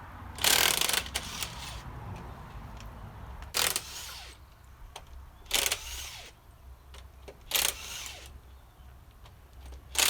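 Ratchet with a 19 socket working wheel bolts on a 2005 Land Rover Discovery 3, loud bursts of rapid clicking pawl repeated several times, separated by quieter handling noise.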